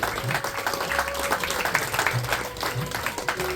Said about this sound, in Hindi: सिर्फ तालियां बजाने से भी हमारी खुशी बढ़ जाती है